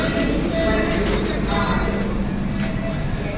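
A Mysore to Shirdi express train departing rumbles steadily, a heavy continuous low roar with rattling and clatter throughout, close and loud.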